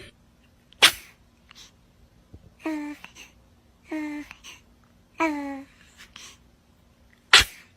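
Two sharp, loud sneezes open and close the stretch, with a few short voiced syllables of speech in between, all in a fairly quiet room.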